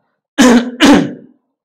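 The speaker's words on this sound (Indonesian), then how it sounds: "maaf, batuk, ya" Two quick, harsh coughs close to the listener, one right after the other, then silence.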